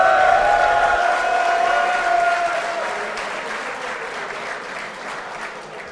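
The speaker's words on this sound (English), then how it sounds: "give a round of applause" Steady applause from a sizable audience at a StarCraft esports grand final, dense clapping that fades slightly as it goes on, with no voices over it.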